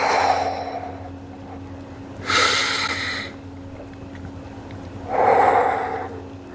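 Two deep, breathy exhalations during a yoga stretch, each lasting about a second, separated by a quiet pause with faint steady room hum underneath.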